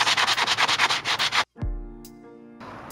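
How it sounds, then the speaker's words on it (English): A sanding sponge rasps across a sculpture mold in about a dozen quick, even back-and-forth strokes, loud and close, then stops abruptly before a ringing tone takes over. "I got a couple different sanding sponges here to try."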